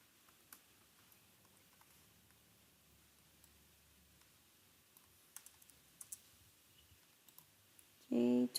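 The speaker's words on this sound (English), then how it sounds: "I'm going to double check my typing here." Quiet, sporadic keystrokes on a computer keyboard tap faintly in short clusters, ending with a sudden louder burst of sound.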